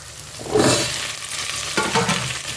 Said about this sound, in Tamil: நல்லா செவந்து வரட்டும் இந்த வெங்காயத்து கூடவே இந்த முள்ளங்கியும் போட்டுக்கலாம்